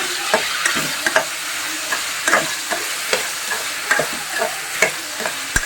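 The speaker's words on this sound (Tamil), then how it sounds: "ரெண்டு தக்காளி மீடியம் சைஸ் தக்காளி இதே ஃப்ரை பண்ணிக்கலாம்" Two medium-sized tomatoes frying in a pan, with a continuous sizzle broken by regular spatula taps and stirs, close and fairly loud, no speech.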